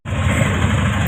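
The engine of an auto rickshaw (tamtam) runs with a steady, close rumbling idle and a slight vibration. It starts suddenly and continues evenly without talk.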